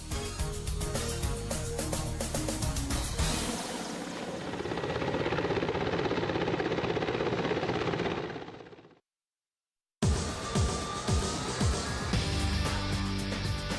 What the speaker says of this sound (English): Mi-35 type helicopters and their modifications possess a high performance and serve as effective and reliable means of fighting in present-day conditions.